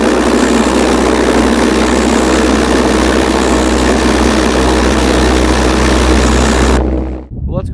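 A bigger homemade pulsejet engine on a test firing, roaring as one loud, continuous, buzzing drone with a deep low pulse, then cutting off abruptly near the end.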